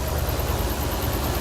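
A Ford 351 Cleveland V8 with a Raceworks throttle body upgrade idles steadily nearby, a deep continuous rumble with a slight pulsing vibration throughout and no voices.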